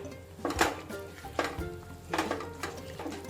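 Flour being stirred and mixed in a pan while making Gujarati sukhdi, with three distinct bursts of scraping and clinking from a spoon against the metal pan, close and moderately loud, with no talking.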